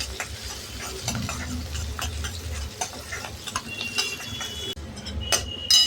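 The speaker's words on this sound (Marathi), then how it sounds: "कांदा 1 मिनिट परतून घ्यायचा." Chopped onion with curry leaves being stirred in a hot pan, sizzling steadily while a spoon scrapes and taps the pan in irregular strokes, close and fairly loud, with no talking.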